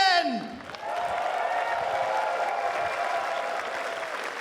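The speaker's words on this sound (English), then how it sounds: "Please, a big round of applause for Brandon Obsidian!" Audience at the opening ceremony of a furry convention breaking into loud, sustained applause with some cheering, after a brief voice at the very start.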